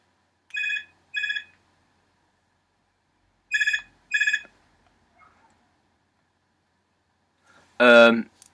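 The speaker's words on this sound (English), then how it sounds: "it was the phone ring" A telephone rings in two paired bursts, evenly spaced and clear against silence, followed by a short burst of voice near the end.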